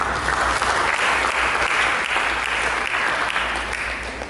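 A church congregation applauds steadily, a dense, even wash of many hands clapping that holds at full strength throughout with no voices on top.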